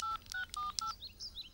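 A mobile phone keypad sounds a quick run of dialing tones: about five short, clear beeps in an even rhythm, close and moderately loud, followed by faint higher chirps.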